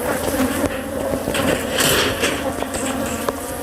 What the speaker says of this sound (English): You got bees all over that thing